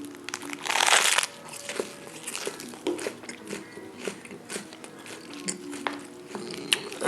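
Crunchy bites and chewing of a gluten-free tortilla sandwich filled with cheese and onion, with one loud crunch near the start followed by quieter, irregular close-up chewing and crinkling.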